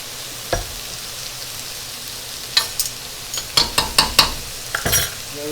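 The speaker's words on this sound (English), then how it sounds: "Everything is stir, because it is called stir fry." Stir fry with light soy and oyster sauce sizzling in a pan, a steady hiss broken by a series of sharp utensil scrapes and clinks against the pan, close and fairly loud, no speech.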